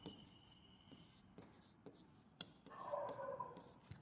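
Chalk or marker scratching on a board during a Class 10 physics lesson on spherical mirrors, a series of short, fairly close strokes in a quiet room with a faint bit of breath or murmur.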